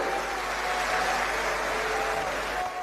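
A crowd of party workers at a Kolkata conference claps to welcome leaders on stage, producing a dense, continuous wash of applause that stays loud and even throughout, with no voices on top.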